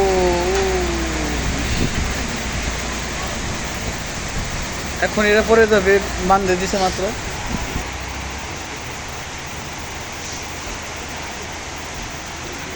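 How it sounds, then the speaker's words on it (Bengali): Heavy rain pours steadily at a village market in Pakutia, Nagarpur, Tangail, a dense broadband hiss throughout, while people talk nearby partway through. "নীরবে এখন অনেক বৃষ্টি বৃষ্টি আছে সুন্দর একটা বৃষ্টি হতেছে"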